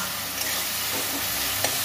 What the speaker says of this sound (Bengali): মশলা তেল ছেড়ে গেছে, ভাজা হয়ে কষা হয়ে গেছে।